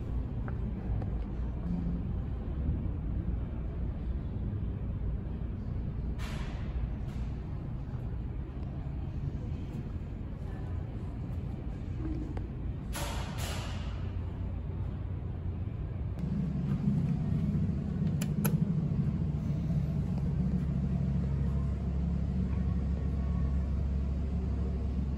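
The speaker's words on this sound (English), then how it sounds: "Here in the lobby of this building, they had an old Otis elevator motor." An old Otis elevator motor hums steadily in a building lobby, a continuous low rumble that shifts to a louder, deeper drone partway through, with a few faint clicks and knocks.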